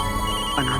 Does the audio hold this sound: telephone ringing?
yes